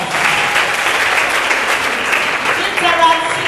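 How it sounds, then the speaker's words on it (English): A school or Rotary assembly audience claps steadily and densely for several seconds, a continuous wash of applause filling the room without a break. "Clap for yourself."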